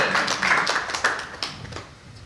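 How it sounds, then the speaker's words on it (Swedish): Brief scattered applause for a Vasaloppet cross-country ski race finisher, a handful of hands clapping unevenly and fairly faint for about two seconds, with no talk. "En applåd."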